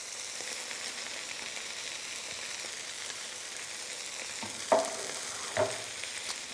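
Onions with a squirt of tomato paste sizzle steadily in a hot pan, a continuous dense frying hiss with a few louder pops and stirring knocks near the end, no voices.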